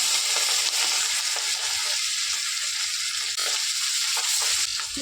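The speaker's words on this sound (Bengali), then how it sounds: "তেল গরম হয়ে গেছে এবার মাছগুলো একটু ভেজে নেব" Hilsa fish frying in hot mustard oil in a kadai, a dense, steady sizzle and crackle up close, unbroken for several seconds with no voices.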